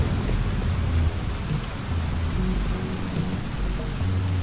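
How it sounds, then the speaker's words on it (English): Steady rain falling and pattering on surfaces, a dense continuous hiss with low rumble throughout and no voices. "It's raining!"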